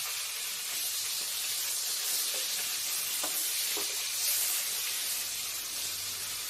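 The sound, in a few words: bata fish frying in a pan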